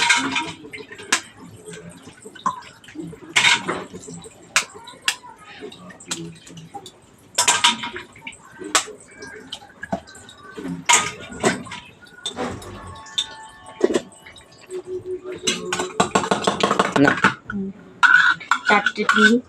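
Four eggs beaten in a bowl, giving irregular clinking and tapping of a utensil against the bowl in quick bursts with pauses, close and fairly sharp, alongside other kitchen clatter.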